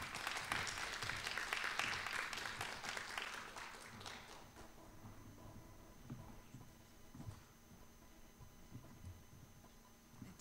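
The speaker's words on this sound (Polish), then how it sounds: "Brawa się zawsze przydają." Festival audience clapping for speakers, loudest at the start and thinning out after a few seconds into a quiet room hum.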